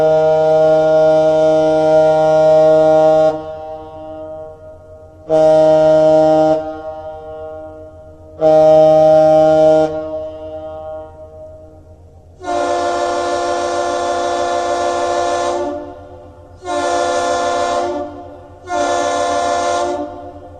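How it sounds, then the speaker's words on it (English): The deep horn of the ship Manitoulin sounds a captain's salute in Duluth: three long blasts answered by a different horn with one long and two shorter blasts, loud and resonant. "you just heard is known as the captain's salute"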